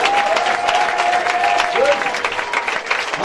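Church congregation applauding and cheering for Jesus, a dense, loud wash of clapping with voices crying out and a sustained vocal note over the crowd.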